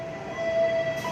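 The Sawung Galih train departing Kutoarjo station toward Pasar Senen gives a brief horn salute, a thin steady tone over a low rolling rail rumble.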